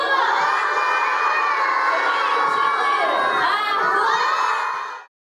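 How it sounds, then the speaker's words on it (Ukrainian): A group of kindergarten children shout loudly all together in one sustained, cheering yell, close and dense, before it cuts off abruptly. "Давайте усі разом голосно на три-чотири крикнемо."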